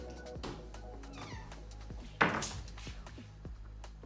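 A house cat meows indoors, one loud close cry rising near the middle over a quieter background of small knocks and thumps, with no talk.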